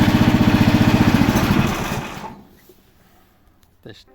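A small engine on a homemade Toytraktor mini loader runs with a fast, loud, pulsing chug that fades and cuts out midway, followed by near silence and a brief faint clunk.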